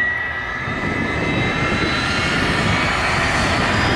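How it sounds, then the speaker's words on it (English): A Lockheed T-33 jet trainer's engine runs with a steady, loud roar and high whine, holding constant throughout as the plane taxis nearby at an air show. "Paul Kepler taxis out in that beautiful Canadian bark T-33"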